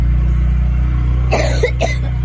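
A person with a sore throat and blocked nose coughs two or three times in quick succession about midway through, close by, over a steady low engine-like hum.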